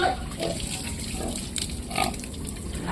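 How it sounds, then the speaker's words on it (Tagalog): A pig, weighed at about 91 kilos, grunts several times in short close bursts, with a watery splashing background noise underneath. "Baboy."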